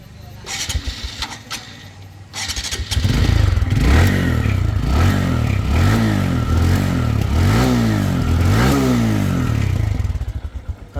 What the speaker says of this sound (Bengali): দু হাজার বাইশের মডেলের সুন্দর একটি মোটর সাইকেল তো দর্শক আমি এখন স্টার্ট করে সাউন্ড কন্ডিশন দেখাবো